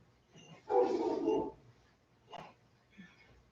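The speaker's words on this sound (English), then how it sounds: "The dog barking?" A single dog bark rings out up close, followed by two fainter, shorter yelps or woofs.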